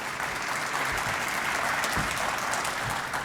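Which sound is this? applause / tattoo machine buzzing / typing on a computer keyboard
applause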